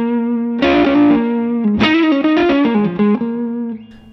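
An electric guitar plays a few sustained notes through a gritty distortion boost pedal based on the old Electra distortion circuit, thick and saturated, ringing out loudly with no voices.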